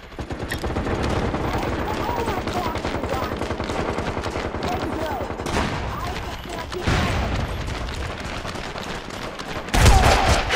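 Sustained rapid gunfire from the PS3 shooter MAG in a Sabotage battle, dense automatic bursts rattling almost continuously, with a louder close burst near the end; a voice talks and laughs over it.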